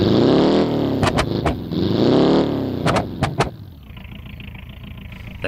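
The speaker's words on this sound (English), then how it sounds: "That racing exhaust really sounds the part, but I really shouldn't be revving this engine while it's cold" Racing exhaust on a 1.5-litre car engine in BeamNG.drive, starting up and then blipped through several sharp revs while still cold, loud and close, settling to a lumpy idle at the end.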